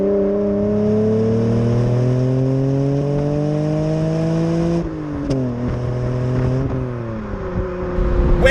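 A Mitsubishi FTO's engine revs up steadily while driving, the note climbing through the gear, then dropping on a shift and rising again, close and loud with no talk.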